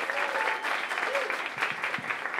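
Audience applause for performers at a live music show, a steady wash of clapping from a crowd with faint voices mixed in.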